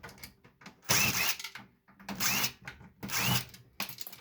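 A power screwdriver removes screws from a fax machine being scrapped, whirring in three close bursts with rattling metallic handling between them.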